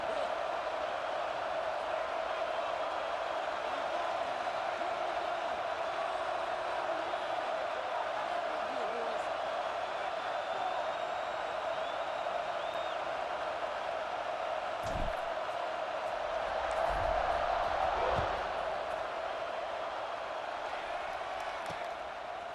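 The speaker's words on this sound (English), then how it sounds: "this crowd is buzzing after that last score" A stadium crowd in the American college football video game EA Sports College Football 26 keeps up a steady, loud buzzing roar that swells briefly toward the end, with a commentator's voice over it.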